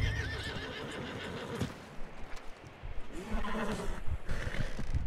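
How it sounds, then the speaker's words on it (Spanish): A horse whinnies loudly in Red Dead Redemption 2, followed by hoof clip-clops and snorting against a busy background. "Sí, hay que coger este caballo con cuidado."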